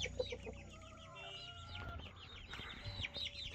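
An Aseel rooster and a small flock of chicks nearby: a quick series of high chick peeps and chirps mixed with low clucking, fairly faint and close, with no voices.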